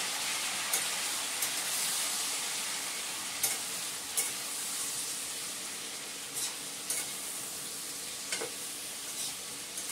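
Spices and ginger paste being stirred and fried in a pan, a steady broadband sizzle with scattered scraping clicks of the spoon throughout, close and continuous.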